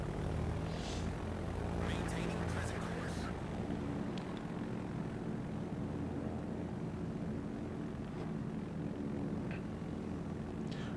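Aircraft engines droning through a bombing run on the Bismarck in the World of Warships naval game, a steady propeller hum under game ambience with a few faint clicks and a voice speaking over it.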